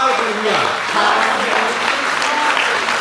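Audience applause at a Hindi poetry recital, a steady dense wash of many hands clapping close by, with faint voices mixed underneath.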